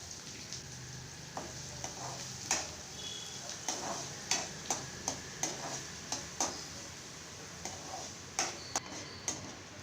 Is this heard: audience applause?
no